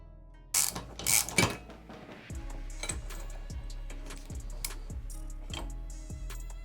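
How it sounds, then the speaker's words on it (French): Flat wrench turning a screw on a Piaggio 50cc scooter crankcase during crankshaft bearing removal: two loud bursts, then a steady series of close, regular ratcheting clicks and metallic ticks. "on vient placer la clé plate comme ceci et on tourne la vis"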